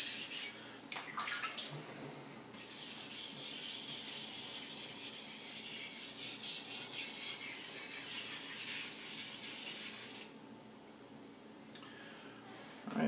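A Takeda gyuto knife edge is worked on an Imanishi 1K whetstone, making steady, close, gritty rubbing strokes that run for several seconds before easing to a quieter pause.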